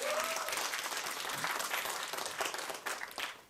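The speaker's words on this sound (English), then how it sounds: "So huge hand applause for Kayang." Audience at an advocacy training session on making voices heard at Capitol Hill bursts into loud, sustained applause, dense clapping filling the whole stretch without letup.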